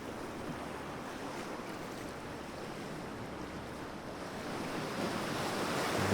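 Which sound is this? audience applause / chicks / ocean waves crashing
ocean waves crashing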